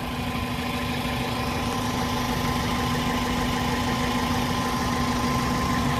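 A Toyota Altis idles with its air conditioning running after a condenser replacement, a steady close engine hum and compressor drone with no change over six seconds.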